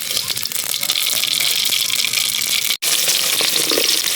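Mustard seeds dropped into hot oil in a pan over an outdoor cooking fire, frying with a loud, dense, continuous sizzle and crackle, briefly cut off once before resuming.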